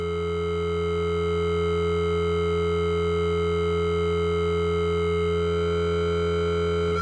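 Sustained synthesizer tone from a wavetable slowly scanned by a sine wave LFO, a dense steady drone with many harmonics that shifts subtly in timbre over several seconds, loud and alone.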